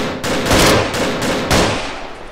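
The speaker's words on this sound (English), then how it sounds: "This gun's loud, Jesus Christ." Loud, close automatic gunfire in a military shooter game, with a few sharp bursts in quick succession that each ring out with heavy echo.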